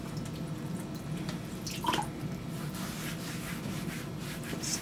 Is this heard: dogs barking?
no